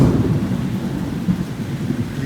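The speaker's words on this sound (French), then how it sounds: "Là, vous entendez le tonnerre." Deep, steady rumbling thunder rolls on throughout in Da Nang, Vietnam, loud and close, with a faint hiss of rain beneath it.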